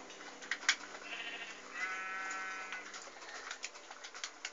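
Sheep bleating in a Minecraft-style block-building game, a few drawn-out wavering bleats in the middle over steady game noise and scattered clicks and taps.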